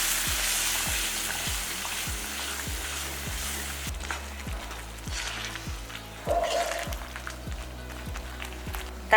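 Curry leaves, coriander and mint sizzle and fry in a hot pan, a steady crackling hiss with occasional stirring scrapes, close up and without talk.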